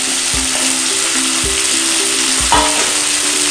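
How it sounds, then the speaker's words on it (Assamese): Sliced onions and mutton sizzle steadily in a hot pan while a spoon stirs them, scraping the pan loudly three or four times over a continuous close frying hiss. "মিলাই লৈ পেলাই কম ফ্লেমতে আমি 5 মিনিটৰ কাৰণে ভাজি দিম"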